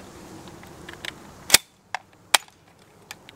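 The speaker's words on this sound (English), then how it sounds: "Thud in the dirt." A Hi-Point carbine round strikes dirt at an outdoor shooting spot, giving a few sharp, fairly close impacts with a brief loud crack, set apart by short pauses over quiet background.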